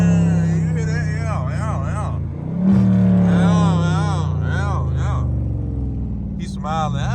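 A Dodge Scat Pack engine rumbles loudly and steadily, with a rev that swells partway through, while people talk over it throughout.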